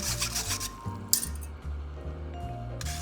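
A wire whisk with a mesh head stirs about 2.5 tablespoons of flour in a pan, giving close, repeated scraping and rubbing strokes with light metallic clinks in a steady back-and-forth rhythm.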